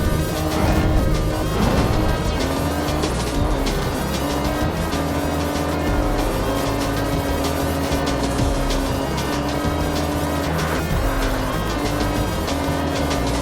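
Racing cars roar steadily in the Dreamcast arcade game Speed Devils, a loud, continuous layered engine drone with shifting pitch and a brief tire screech early on, all set against constant game music with no talking.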